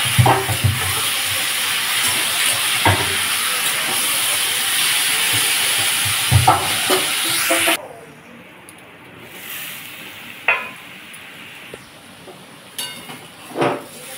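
Potatoes for aloo posto frying in a pan: a loud, steady sizzling hiss that drops off sharply when the pan is covered, leaving faint crackles and a few clinks.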